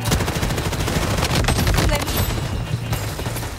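Rapid gunfire in the shooter game Blood Strike, a dense, loud burst of repeated shots running steadily through the moment with no voices over it.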